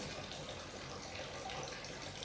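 Water runs steadily into a container inside a toilet room, a continuous faucet-like splashing stream at moderate level with no voices.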